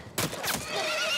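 A horse in The Last of Us video game lets out a shrill, wavering whinny that trails off over about a second, preceded by a brief burst of rougher noise.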